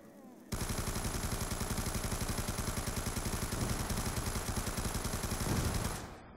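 Sustained, rapid automatic fire from an RPD machine gun in Black Ops 2 Zombies on the Town map, loud and close, a dense continuous rattle lasting several seconds before cutting off.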